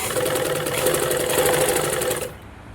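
A sewing machine stitches a blouse neck in a fast, steady whirring run of rapid needle strokes, close and moderately loud, then stops abruptly near the end.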